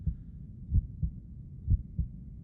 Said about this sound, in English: I could feel my heart pounding in my chest